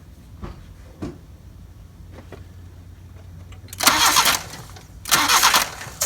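A car engine with a distributor ignition system and newly replaced spark plugs and wires cranks in a few short bursts, then catches and roars into two loud starts close by.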